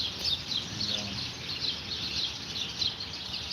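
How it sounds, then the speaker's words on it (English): Small birds chirp in the background outdoors, a steady scatter of high tweets running throughout over a muffled, low rumbling noise floor. "I know it just sounds like birds chirping in the background"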